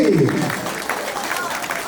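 A burst of clapping rises as a voice calls out, then the applause continues briefly under the noise of a crowd at a baptism celebration.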